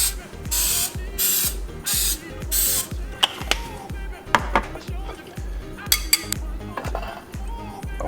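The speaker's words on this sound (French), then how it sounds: "là j'utilise un spray coconut, un spray coco" Coconut oil cooking spray sprayed into a donut mould in a kitchen, several short loud hissing bursts, followed by clicking and clattering of utensils and pans close by.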